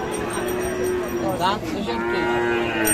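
A Sahiwal bull at the busy Ambari Haat livestock market lows in a long, fairly loud moo midway, set against constant crowd chatter and nearby voices.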